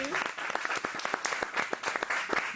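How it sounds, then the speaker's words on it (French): A crowd applauding steadily, many hands clapping densely and evenly for a couple of seconds. "Merci d'applaudir."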